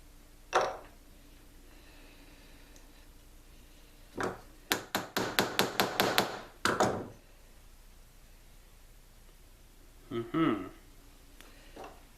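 A run of sharp, quick taps in a tight cluster as pins are tapped into custom knife scales, with a few isolated knocks before and after, close and fairly loud against a quiet background.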